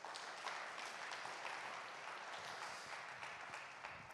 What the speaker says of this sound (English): Can I have a big round of applause for our people around the world?